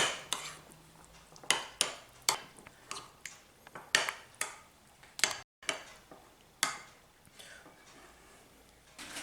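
Chilli mayonnaise sauce with lime and chilli flakes being mixed in a bowl, a series of sharp clinks and scrapes of a spoon against the bowl, close and irregular, with quiet gaps between strokes.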